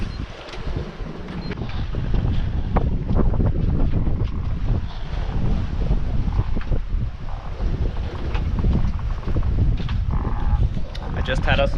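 A sailboat runs downwind at about five knots along the Sicilian coast between Palermo and Cefalù, with continuous rushing wind and water noise buffeting the microphone throughout.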